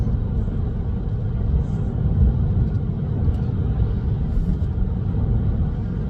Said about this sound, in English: There is road noise on this car with the tires that it came with.